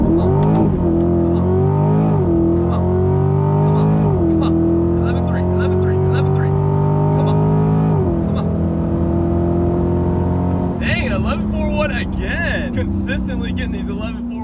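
A C8 Corvette with a ported throttle body accelerates hard on a street drag run in cool weather, its loud engine note climbing steadily through several gear shifts, the tone dropping at each change, with rushing wind noise building toward the end.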